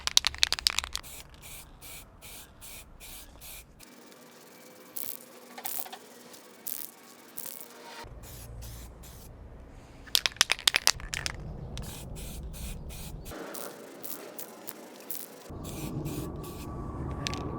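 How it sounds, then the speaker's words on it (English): Semi-gloss paint hisses from a spray can inside a paint booth in short repeated bursts, with brief quiet gaps between passes and faint rattling in the background. "Bit of semi-gloss paint."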